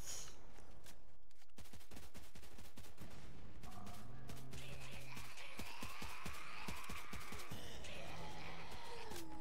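Rapid bursts of gunfire from a PDW-R weapon in the Roblox zombie shooter Zombie Uprising, with repeated shots over layered game effects and some mechanical clatter throughout.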